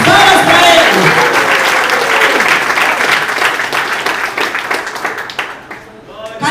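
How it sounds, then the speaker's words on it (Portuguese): A church congregation applauds loudly and densely at first, the clapping gradually thinning and fading out toward the end, with voices mixed in. "Palmas para agradecer o Jesus."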